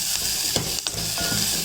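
Continuous loud sizzle of finely chopped raw mangoes frying in hot oil, with a few scraping stirs of the spatula against the pan.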